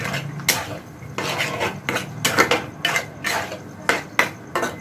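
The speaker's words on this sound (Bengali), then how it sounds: "ধনেপাতা দিয়েও ভালো করে এবার নাড়াচাড়া করে নেব" Egg keema with chopped coriander and shahi garam masala being stirred in a pan, the spoon scraping and clinking against metal in repeated bursts, close and fairly loud, with no talking.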